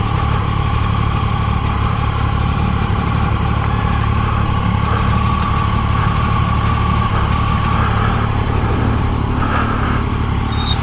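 Triumph Daytona 675R motorcycle warming up at idle, a loud, close, continuous engine drone holding steady the whole time with no talk.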